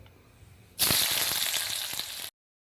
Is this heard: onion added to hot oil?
yes